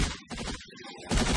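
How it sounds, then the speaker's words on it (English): Rapid machine gun bursts in a fast-paced multiplayer shooter game, dense crackling gunfire that briefly dips, then resumes louder and harsher at the end. "Machine guns hurt!"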